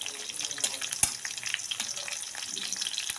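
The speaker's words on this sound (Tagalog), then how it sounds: "igisa lang po natin ang bawang at sibuyas" Garlic and onion sautéing in a pan for chicken tinola, a steady soft sizzle with faint scraping stirs and a brief clink, moderately close and without voices.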